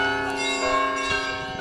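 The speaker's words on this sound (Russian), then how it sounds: "Колокольный звон мы послушали, между прочим, это продолжалось где-то около получаса." Church bells ring at a winter open-air museum estate, their sustained, overlapping metallic tones forming a dense, continuous peal with strikes layered over lingering hum, fairly loud and with no voices.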